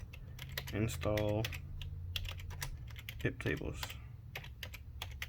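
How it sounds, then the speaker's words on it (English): Keystrokes on a computer keyboard as a Linux install command is entered at a terminal, a quick run of light clicks mixed with speech from a nearby voice throughout. "we're going to go ahead and install that by typing in yum"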